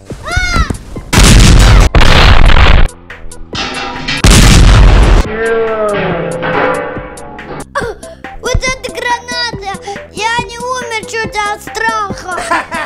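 A prank grenade goes off at home during April Fools' Day jokes, with a few loud booming blasts up close, followed by shrieks, gasps and excited voices.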